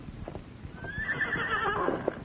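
A horse whinnies loudly and close, its rising neigh sweeping up and fading, with hoof clip-clops underneath through the short burst and no speech.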